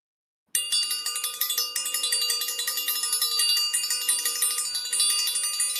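A bell rings in rapid repeated strikes after a moment of silence, bright and ringing continuously, close and clear.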